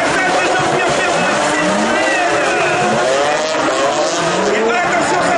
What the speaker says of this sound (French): Le freinage de Jean-Pierre Pernod, le passage de Jean-Pierre Pernod